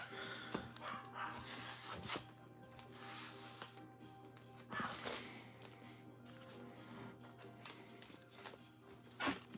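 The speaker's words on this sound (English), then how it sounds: "let's shuffle these up here" Yu-Gi-Oh trading cards from Legend of Blue Eyes packs are shuffled by hand in a series of papery riffles and flicks, close and moderately loud, with a steady low hum underneath and no talking.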